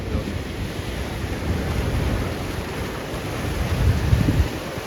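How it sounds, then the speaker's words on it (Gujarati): High sea waves surge and break against rocky shore stones, a continuous loud roar of surf mixed with wind buffeting, swelling slightly louder near the end. "અહીંથી લહેરો આવે છે આ રીતની એટલે ઊંચી ઊંચી લહેરો"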